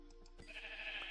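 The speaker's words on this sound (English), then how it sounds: "Sheep!" Short bleat from a Minecraft sheep, a single faint call rising out of quiet game ambience with a low steady hum beneath.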